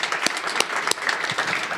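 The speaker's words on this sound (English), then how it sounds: "can we give a round of applause in absentia?" A lecture-series audience breaks into a brief burst of applause, dense overlapping hand claps filling the room for under two seconds.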